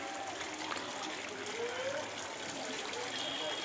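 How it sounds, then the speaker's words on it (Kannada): Water from a waterfall near the Dawki river rushes and splashes continuously, a faint steady wash with a voice speaking briefly over it. "water falls"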